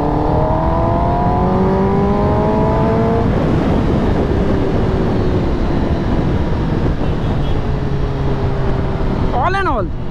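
Motorcycle engine droning steadily while riding in sport mode, with wind rush and rising tonal whine through the run, a brief higher whistle near the end, loud and continuous.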